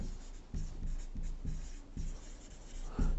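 Pen or chalk writing out an answer during a Class 10 maths lesson on real numbers, a quiet series of short scratchy strokes repeating at a steady pace, with no voice.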